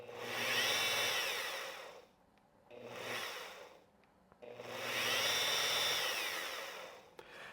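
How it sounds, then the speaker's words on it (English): A rotary polisher spins a Barjack blue/white pad against a surface, giving two loud sustained whirring bursts with a short quieter spell between them and a brief pause before the second run. "with a rotary polisher, you're going to see the movement that the fibers will have when they're making contact with the surface"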